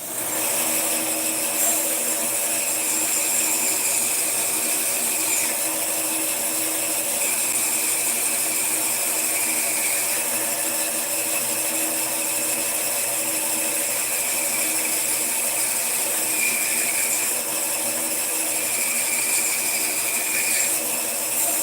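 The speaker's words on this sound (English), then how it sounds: "Happy bandsaw noises." A bandsaw cuts through bead-making material in a steady, unbroken whine and hum, loud and close, with slight shifts in pitch as the blade bites but no pauses and no talking.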